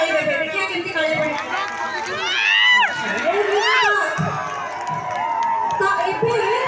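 A crowd at a youth festival cheers with rising whoops and shrill whistles over a noisy babble of voices, loud and lively throughout.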